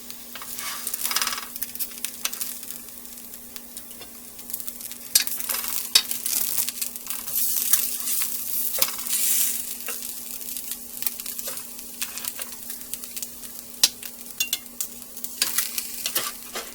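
Pork chops browning in a hot pan, a steady crackling sizzle with scattered sharp pops and occasional scrapes of a utensil, close up and without talk.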